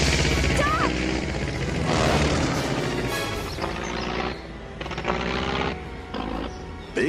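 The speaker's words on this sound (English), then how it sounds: "It's an aeroplane, and I think it's in trouble." An aeroplane in trouble heading toward a river, in an animated Tarzan and Jane story, roars loudly and steadily for several seconds amid crashing, booming effects and busy music.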